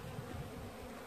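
Honey bees buzzing at a beehive during a transfer from a four-frame nucleus box to hives, a steady, faint, low drone with no gaps.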